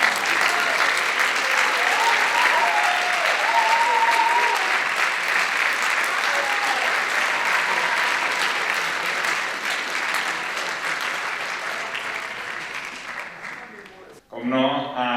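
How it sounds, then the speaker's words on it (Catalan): Sustained crowd applause at a Broadway-themed band concert, a dense, even wash of clapping with faint voices and a brief tonal sound near the end. "un fort aplaudiment per a ell"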